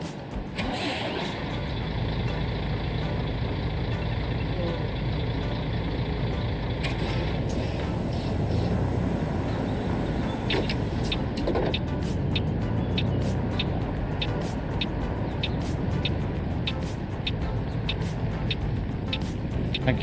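A bus driving in the Tourist Bus video game, with a steady mid engine drone and road rumble running throughout, plus scattered clicks and short high hisses like air brakes, fairly loud and continuous with no talk.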